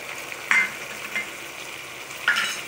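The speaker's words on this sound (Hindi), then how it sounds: "अब हम इसमें गोश्त डालेंगे, अदरक लहसुन का पेस्ट डालेंगे" Mutton, ginger garlic paste and golden-fried onions sizzle in a pan for Mumbai-style dal gosht, a soft steady frying hiss broken by a few brief stirring scrapes.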